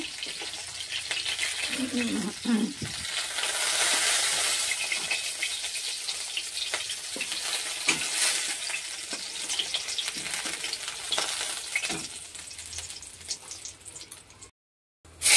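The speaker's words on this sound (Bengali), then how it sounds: "এইভাবে সমস্ত মাছগুলো আমি একটা একটা করে ভেজে নেব।" Gule and bata fish fry in hot oil in a pan, a steady hissing sizzle with scattered pops and some stirring clatter, near and fairly loud, ending in a brief cutoff.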